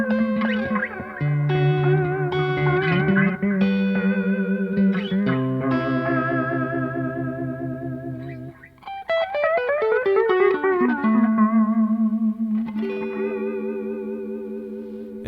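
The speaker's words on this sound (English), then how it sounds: "I have a vibrato delay setting pulled up here." Guitar played through a delay pedal on a vibrato delay setting, notes repeating in warbling, pitch-wavering echoes that smear into a lush wash; loud and continuous, with gliding phrases and no talking.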